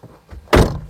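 A car door swings shut with a single solid thud as people get back in during a drive through the Simlipal Tiger Reserve forest. Softer handling noises come just before it, and no voices are heard.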